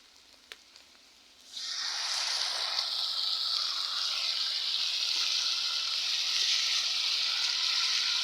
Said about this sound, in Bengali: এখানে আমি এখন সামান্য পানি দিয়ে দিলাম